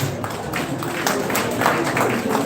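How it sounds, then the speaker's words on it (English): Applause from the audience at a town hall meeting on Edo State security, a steady wash of many hands clapping throughout, moderately loud with some crowd murmur. "Please, a round of applause for you."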